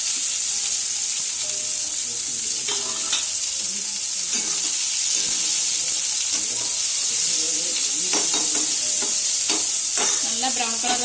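Onions sauté in melted ghee and coconut oil for a Malabar fish biryani, with a steady close sizzle and intermittent stirring scrapes of a spoon in the pan.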